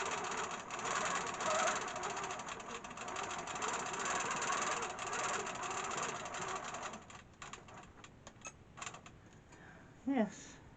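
A sewing machine stitches a stippling quilting pattern, a steady fast mechanical whir and rattle that runs continuously, then stops, leaving a few faint clicks and a short creak near the end.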